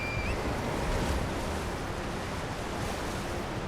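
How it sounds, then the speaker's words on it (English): A waterfall roars steadily in Elden Ring Shadow of the Erdtree, a broad unbroken rushing wash that holds at an even level throughout, with no voices. "Going to have a look at the waterfall."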